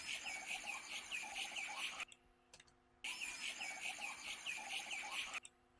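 Forest ambience with birds chirping and insects buzzing, added as a sound effect. Faint and continuous, it cuts out abruptly for about a second and then resumes.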